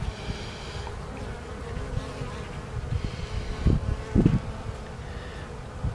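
Dense, steady buzzing of many Carniolan honeybees close by at a breeding hive just out of winter, with a couple of brief louder swells near the end.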